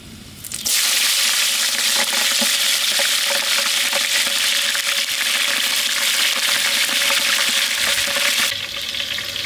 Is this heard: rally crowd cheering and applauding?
no